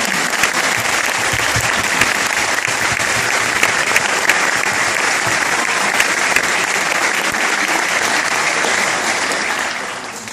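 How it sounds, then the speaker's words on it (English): An audience at a New Hope-Solebury school concert band performance applauds the student bands with loud, dense, steady clapping that runs unbroken for about ten seconds before starting to fade at the very end. "Another round of applause for both of our bands,"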